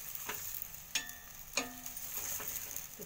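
Aloo paratha frying in oil on a griddle, a steady soft sizzle running throughout with a few sharper clicks and scrapes near the start and middle, close and fairly quiet.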